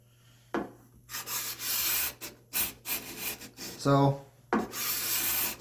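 A hand-made cabinet scraper with its blade set slightly deeper drags across wood, giving several close, rasping strokes in bursts with short pauses, loud and near, with a single spoken word in between.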